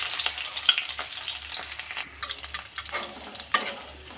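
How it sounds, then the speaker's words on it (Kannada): Crushed garlic fries in hot oil with popped mustard seeds for a village-style tomato gojju, giving a dense close sizzle and crackle with stirring scrapes and a few sharper pops, no talking. "ಚಚ್ಚಿಟ್ಕೊಂಡಿರೋ ಬೆಳ್ಳುಳ್ಳಿ ಹಾಕ್ಕೊಳ್ತಾ ಇದ್ದೀನಿ."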